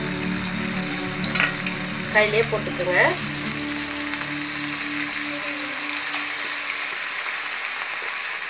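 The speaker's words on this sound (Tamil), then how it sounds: "இப்ப இது எண்ணெய் ஊத்தி பொரிச்சு எடுத்துக்கலாம்" Steady loud sizzling of cauliflower pieces deep frying in hot oil, with brief clinks and a short spoken phrase early on.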